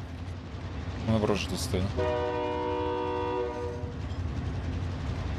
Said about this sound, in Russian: Сейчас поезд к нам подъедет